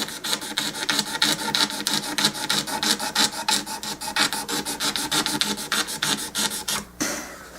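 Fast, regular rasping strokes come from sanding cross-grain scratches out of a Silvertone acoustic guitar's wooden fingerboard, close and steady for several seconds before stopping abruptly, with no voices.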